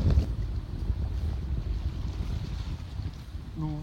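Steady wind roars and buffets the microphone aboard a sailboat in about 15 knots of wind in the Dodecanese, with water rushing below and a brief low murmur near the end.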